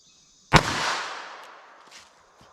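A single sharp .32 ACP pistol shot fired outdoors into clear ballistic gel cracks loudly once, then fades into a long echoing tail with a couple of faint later knocks.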